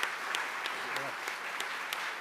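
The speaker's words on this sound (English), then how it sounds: "one more round of applause for Doug" An audience at an EAA aviation chapter speaker-series event applauds a speaker. The claps are steady and spread across the room, with a brief voice heard partway through.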